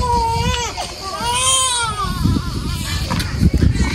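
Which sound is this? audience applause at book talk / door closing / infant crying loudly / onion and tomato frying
infant crying loudly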